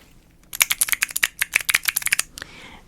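Quick, irregular keyboard typing, a steady run of crisp clicks and taps close up, ending with one final keystroke and a soft rustle.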